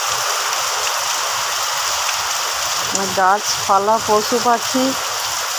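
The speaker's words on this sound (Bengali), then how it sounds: "প্রচুর বৃষ্টি হচ্ছে" Heavy early-morning rain after a long hot spell pours down as a dense, steady hiss, with a voice speaking briefly over it near the end.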